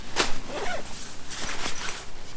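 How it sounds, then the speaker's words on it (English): A door panel on a Hilleberg Staika tent is unzipped in a few short rasping pulls, close up and fairly quiet, with brief pauses between strokes and no one talking. "you can unzip it"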